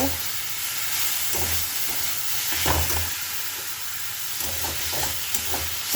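Leafy greens fry in a pan as shak bhaja, a steady moderate sizzle broken by intermittent spatula scrapes and light taps, with a low hum in the background.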